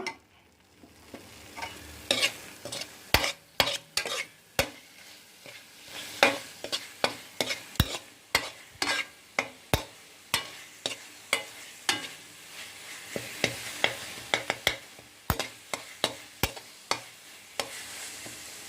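A spoon scrapes and clicks steadily around a pan while thick chicken gravy sizzles and spits underneath over high flame, with irregular knocks throughout.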